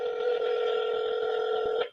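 A telephone line during a live call-in show, giving a steady, loud two-second ringing or dial-type tone that cuts off sharply at the end, heard alone.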